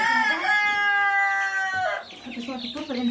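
Chickens in a poultry battery house squawk and crow loudly up close, one long sustained cry followed by overlapping clucks and shrill calls, with a voice talking among them.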